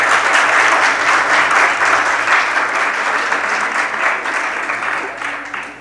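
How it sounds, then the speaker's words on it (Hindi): Vigorous audience applause for students at the closing ceremony of a Sanskrit youth gathering during a Magh festival: loud, continuous clapping close by that slowly thins out over six seconds. "इनके लिए जोरदार तालियां बजानी चाहिए आपको।"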